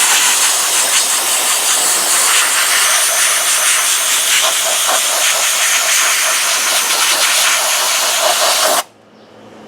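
A Harbor Freight portable sand blaster gun spraying soda media gives a loud, steady, broadband hiss that holds unbroken for about nine seconds and then cuts off abruptly.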